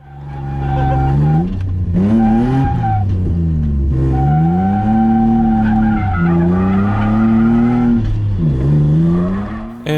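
A Nissan 350Z drifting, with loud sustained tire skid and squeal rising and falling in long sweeps over a steady engine drone and revving, continuous and close through the whole stretch.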